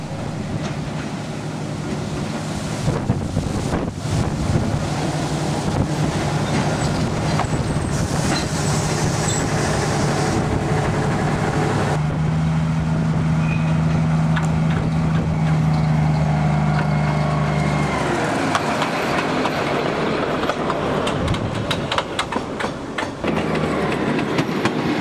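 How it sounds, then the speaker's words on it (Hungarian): A narrow-gauge train on the Nyírvidék light railway pulls into Dombrád from the Balsa direction, with a continuous close rumble, clattering wheels and a steady tonal drone building as it arrives. "Érkezik is balsa felől a másik szerelvény"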